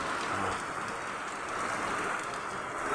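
Steady rain during the Amihan monsoon season, a dense continuous hiss of drops on surfaces, close and even throughout with no voices.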